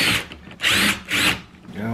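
Power tool working on a mounting bolt on a Husqvarna 142 chainsaw, three short close bursts of whirring rattle with brief gaps between them.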